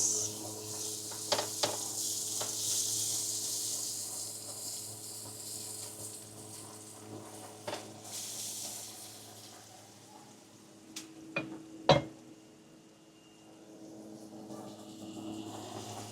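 Onions hiss and sizzle in a hot frying pan for Kung Pao pasta, a steady bright crackle with occasional clinks of the pan or utensil, close by and without speech.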